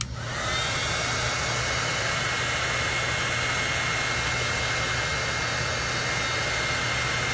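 A heat tool blows a steady, airy roar with a low hum over a handmade watercolor birthday card. The even blowing starts abruptly and runs unbroken for about seven seconds at moderate level.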